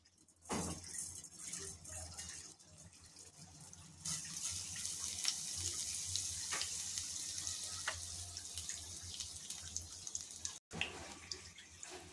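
Mustard and cumin seeds dropped into hot oil, a crackling sizzle that flares up abruptly and then keeps hissing steadily, quiet and close, with no talking.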